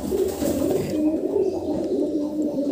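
Pigeons coo in a loft, a close, continuous rolling low cooing from several birds.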